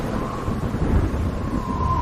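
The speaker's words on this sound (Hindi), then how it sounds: "ये तो तेज बारिश शुरू हो गई है" Heavy rain pours steadily with low rumbling thunder rolling underneath, a dense continuous wash close by with no voices.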